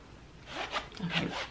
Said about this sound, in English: The zipper does feel very substantial.